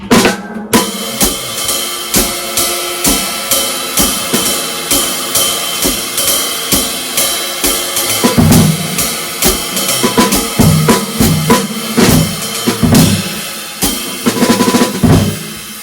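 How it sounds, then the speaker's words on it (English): A drum kit plays a continuous jazz groove, the bass drum beater buried into the head giving a dead, muffled thud, with heel clicking among cymbals and snare hits, loud and close, no talking. "You kind of have the beater is buried into the head, and you have like your heel is clicking,"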